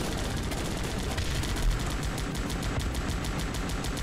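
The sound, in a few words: AA guns and mortars firing in video game Guns Up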